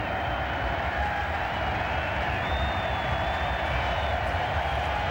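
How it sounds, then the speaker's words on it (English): A football stadium crowd rises to give the Washington Redskins a standing ovation late in a 2005 game against the New York Giants. A dense, unbroken roar of cheering and applause fills the space, steady and loud throughout. "Crowd on their feet. Standing ovation for the Redskins."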